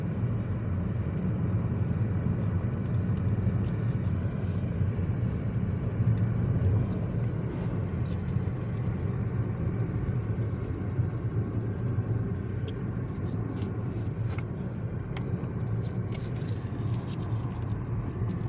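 A car driving on a road at night in Scioto County, Ohio, with a steady low engine and road rumble throughout from inside the cabin, plus faint occasional clicks and no talk.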